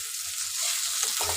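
Potato curry frying in a pan with salt, turmeric and chilli added, a soft continuous sizzle with a few stirring scrapes near the end, fairly quiet and close.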